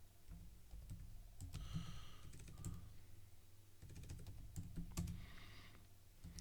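Bursts of keystrokes on a computer keyboard attached to a 486 SX MS-DOS machine, two clusters of quick clicks separated by a pause, close and moderately quiet, no speech over them.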